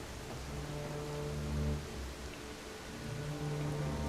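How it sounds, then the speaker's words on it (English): A heavy rainstorm in the video game BellWright comes through as a soft, steady hiss of rain, with faint low tonal sounds running beneath it and no voices. "Out this bad rainstorm for a minute or two."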